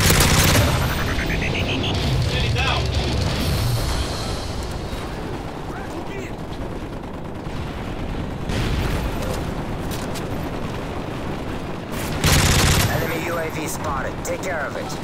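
Rapid automatic gunfire and explosions in a multiplayer shooter video game match, loud and continuous with bursts and booms throughout, a voice speaking over parts of it.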